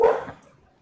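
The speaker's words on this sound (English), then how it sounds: "The dog is barking at somebody." A single sharp dog bark sounds nearby, loud at first and then quickly trailing off into quiet room sound.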